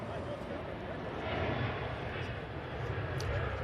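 Broadband engine roar of a British Airways airliner arriving at Manchester Airport, steady and fairly loud throughout, with people talking over it.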